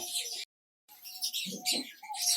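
Diamond doves in a village cage setup make short chirps and soft calls close by, broken by a brief silent gap, with no speech.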